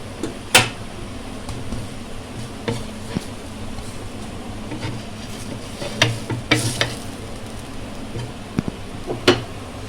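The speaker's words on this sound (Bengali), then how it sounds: "আর এক পিঠ ভাজার জন্য দিয়েছি" Steady sizzle of food frying in a pan, punctuated by occasional sharp clinks and scrapes of stirring, with no voices.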